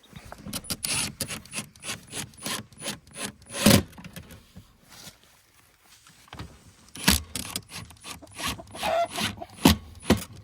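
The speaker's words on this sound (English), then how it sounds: "let me go ahead and get some screws and go to work" A screwdriver or drill driving screws to mount an automatic chicken door, heard as bursts of buzzing whirs with clicks and rattles between them, up close, with a quiet pause midway and no talking.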